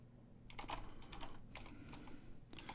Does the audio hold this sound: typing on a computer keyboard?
yes